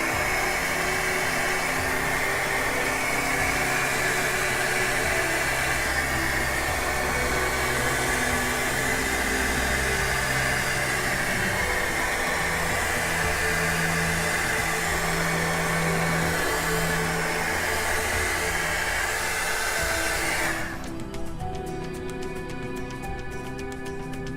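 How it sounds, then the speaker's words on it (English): A hair dryer heating acrylic paint on canvas blows steadily and loudly for about twenty seconds, then cuts off, leaving a fainter hum. "the blow dryer is also moving the paint, not just heating it up"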